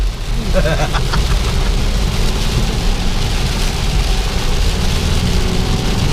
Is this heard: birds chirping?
no